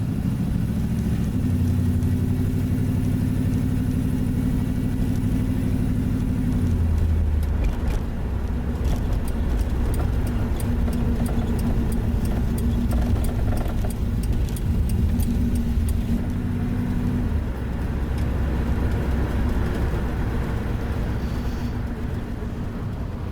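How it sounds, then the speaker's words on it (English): Ford Shoebox car driving through Duluth, its engine droning loud and steady from inside the cabin, with gear-shift pitch changes and road rumble throughout. "We're gonna take a little scenic drive here through Duluth"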